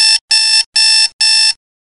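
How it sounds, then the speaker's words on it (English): An alarm clock gives four loud, evenly spaced electronic beeps in quick succession, then stops into silence. "normally alarm clocks go, they have a certain beat"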